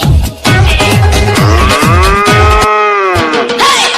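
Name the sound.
cow mooing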